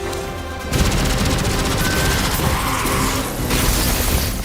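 Gunfire in the video game Destiny 2 comes as a dense, loud burst of rapid shots and blasts, sustained over a few seconds, with no speech.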